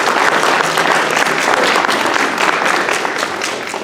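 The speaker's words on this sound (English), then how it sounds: "let's give them all a round of applause just for throwing their hats" Applause for candidates at a meet-and-greet event, a full, continuous round of clapping from the audience that holds steady and tapers slightly at the end.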